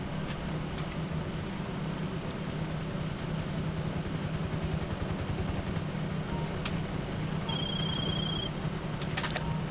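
A Swift helicopter in GTA 5 comes in to land on a helipad, its rotor and engine making a steady, loud, continuous drone that fills the whole stretch with no talking.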